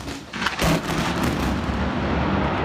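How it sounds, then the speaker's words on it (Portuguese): A sharp, loud blast as lightning hits the ground and causes an explosion, followed by a sustained roaring rumble during a rainstorm, with no voices. "Veja de novo quando a descarga atinge o chão e causa uma explosão."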